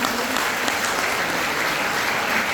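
A crowd at a community health awareness program claps loudly for a teacher, giving a dense, steady wash of applause that holds evenly from start to finish with no clear pauses.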